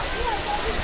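Steady roar of the Talakona Waterfalls close by, a dense continuous rush of falling water with no breaks.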